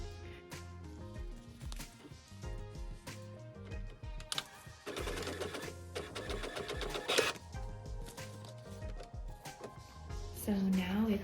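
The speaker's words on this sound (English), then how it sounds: "And your sheet is ready to send through your printer." A printer feeds and prints onto a fabric sheet with rhythmic mechanical clatter, whirring and stepping sounds, up close, with a brief rising whine near the end.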